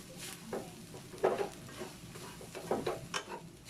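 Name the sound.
stirring and mashing egg into frying kimchi fried rice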